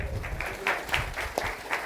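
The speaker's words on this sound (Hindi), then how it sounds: "ताली बजा के प्रभु का महिमा कर दो" Congregation at a Hindi-language church sermon clapping to glorify the Lord, a steady run of overlapping handclaps with rhythmic accents, moderately loud and close, with no voices over it.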